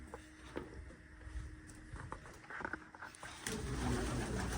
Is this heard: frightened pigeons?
yes